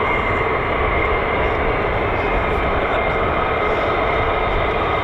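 Several F-35 fighter jets taxi at an air base, with a loud, continuous engine roar and rumble throughout, steady and broadband with no pauses.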